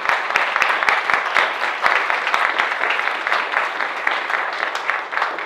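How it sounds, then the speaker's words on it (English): Audience applause after a concert by a quintet, dense continuous clapping with a few sharper individual claps standing out, steady and fairly close, with faint voices mixed in. "Give a round of applause."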